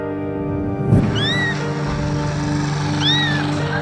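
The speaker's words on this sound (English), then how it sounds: "People heard a small blinded kitten crying and decided to help." A small blinded kitten crying, two thin high mewing cries about a second apart, heard close over a steady humming background.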